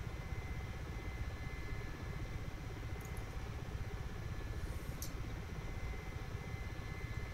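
A Mi-8 Hip helicopter cruises in flight over the coast near the water, heard from inside as a steady, dense engine and rotor rumble with no variation, fairly faint.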